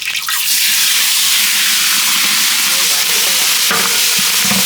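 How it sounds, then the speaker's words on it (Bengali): Shrimp frying in hot oil in a pan, a steady loud sizzle with bubbling crackle running the whole time, a brief clatter near the end as the pieces are stirred. "এই চিংড়িটা ভাজবো তো সেই জন্য তেলটা দিয়ে দিলাম। এখন আমরা চিংড়িটা ভাজে নেবো।"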